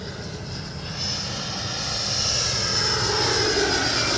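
RC 90mm ducted fan jet model aircraft flying toward the listener outdoors, a steady rushing whine of the electric fan that swells louder and nearer over a few seconds.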